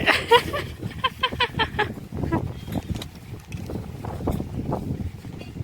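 A motorboat rides on the sea at Diu, its engine and water rush rising and falling with wind buffeting the microphone, and voices chatter briefly at the start.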